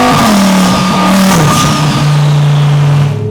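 A twin-turbo Audi R8 Spyder accelerating hard, with a loud, close engine roar that climbs in pitch, briefly drops at a gear change and then pulls on steadily.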